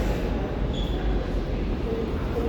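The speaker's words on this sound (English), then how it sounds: "This is a cool subway station, actually." Steady low rumble of a New York subway station at Jackson Heights–Roosevelt Avenue, with train noise droning throughout and a faint high squeal briefly rising, loud and close with no talking.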